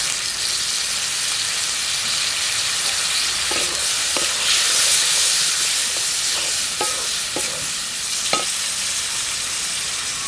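Potatoes hiss and sizzle in hot oil over fried spice tempering in a pan, a loud continuous frying wash with a few light clinks of stirring, no talk.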